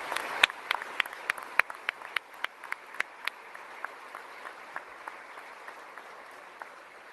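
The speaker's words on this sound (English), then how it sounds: "give them a big round of applause for their great work" Applause for a military band at a change-of-command ceremony, scattered, fairly distant claps at first, thinning out and fading over several seconds.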